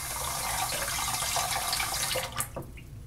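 Running tap water splashes steadily while a straight razor is rinsed, a close, continuous hiss that cuts off near the end with a few drips and handling sounds.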